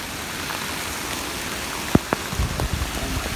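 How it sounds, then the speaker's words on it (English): Steady hiss of heavy hail pelting a surface on a hiking trail, with a few sharper clacking impacts near the end, close by. "It just hailed."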